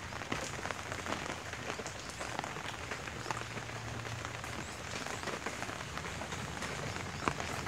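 Steady rain pours down on a day of continuous morning rainfall, a dense, even hiss of drops hitting surfaces that fills the whole stretch without pause.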